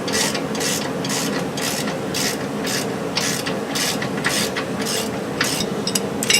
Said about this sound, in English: Now just bolt them down and your lower is now secure